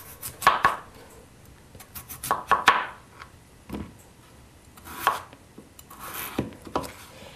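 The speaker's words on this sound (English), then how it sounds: "We have our peeled potato. Now we're gonna cut it." A knife chops a peeled potato into small chunks on a cutting board, with clusters of crisp close taps separated by short pauses.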